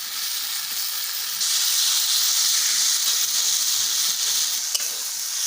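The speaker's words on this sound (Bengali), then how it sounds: "এখন আরও 2 মিনিট ওলকপি আলু মশলার সাথে ভেজে নেব।" Turnip and potato pieces frying with spices in a pan give a steady, close sizzle and hiss that swells louder after the start and carries on without talk.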